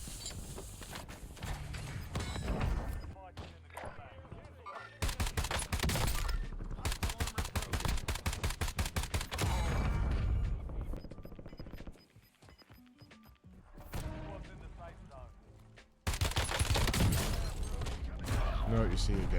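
Rapid automatic rifle fire from Warzone gameplay, with dense bursts of shots in several loud volleys and brief pauses between them, while someone talks over the shooting.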